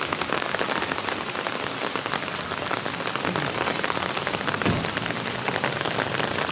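Steady rain falling outside during a typhoon, a dense, continuous patter and hiss on surfaces, uniform and fairly close, with no voices.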